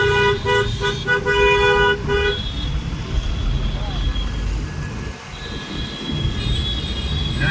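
Traffic on a road in the Konkan region during the Ganpati festival season, with buses and cars passing and repeated loud horn blasts early on, followed by engine rumble and a later horn, with people talking over it.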